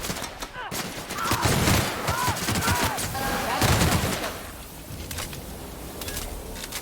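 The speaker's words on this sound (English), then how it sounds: "I think the new gun's working." Gunfire from a newly acquired weapon in the video game The Outer Worlds, a burst of shots mixed with other game sounds and voices, fading out toward the end.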